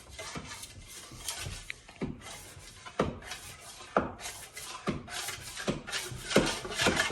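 Venetian plaster being burnished in back-and-forth strokes across a dry surface: close, rhythmic scraping rubs repeating roughly once a second, with no voices.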